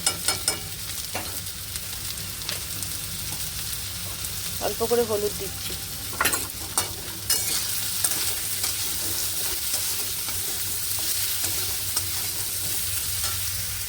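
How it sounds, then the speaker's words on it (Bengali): Potatoes fry in hot oil in a pan, sprinkled with a little salt, giving a steady sizzle throughout with occasional stirring clatter; a voice speaks briefly over the cooking. "আলুগুলো ভেজে নেব।"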